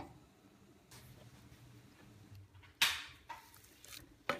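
A metal lid set onto a cooking pot of mung beans on a stove turned to medium heat, giving a sharp clink followed by a couple of lighter clatters against quiet kitchen background.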